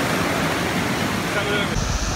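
Creek water flows steadily on a backpacking trout-fishing trip, a dense, continuous rushing wash with no talking.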